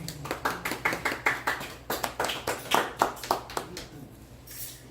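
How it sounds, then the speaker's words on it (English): Audience at a poetry reading claps in a rhythmic run of distinct, fairly close claps, a dozen or so in quick succession, fading into room quiet at the end. "Feels weird clapping to that."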